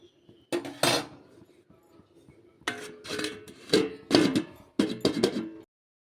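A metal lid is set on a cooking pot of simmering potato and pumpkin, with several bright metallic clanks and clatters in short bursts, close and fairly loud, then silence.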